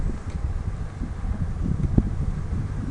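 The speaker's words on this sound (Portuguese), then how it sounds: "Tá ventando muito." Strong wind buffets the microphone outdoors while a radio-controlled model Cessna flies, producing a continuous, loud, low rumbling roar with a brief gust thump near the middle.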